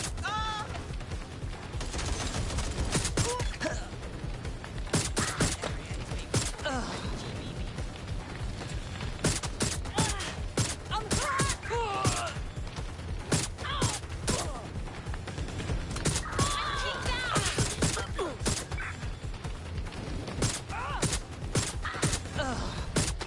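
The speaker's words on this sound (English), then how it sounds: "They're shooting at us!" Enemy gunfire in Watch Dogs: Legion comes as frequent sharp shots in irregular clusters over steady background noise, with occasional game voices in between.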